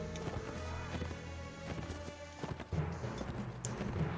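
Horse hooves clattering in the medieval combat game Mount&Blade Warband, a steady galloping clip-clop under dense battle noise and music, close and fairly loud throughout.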